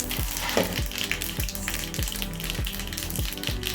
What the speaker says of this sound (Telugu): ఆయిల్ అయితే హీట్ అయిందండి కొంచెం ఆవాలు కొంచెం మినపప్పు పచ్చిపప్పు అండి